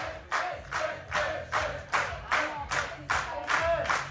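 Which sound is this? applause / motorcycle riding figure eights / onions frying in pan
applause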